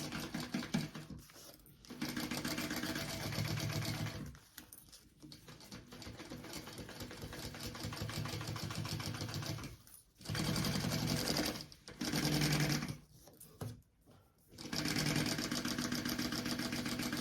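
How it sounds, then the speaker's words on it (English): Sewing machine stitching a bag seam in several loud, close bursts of rapid mechanical whirring, separated by short pauses. "we are going to sew that on at our seam allowance"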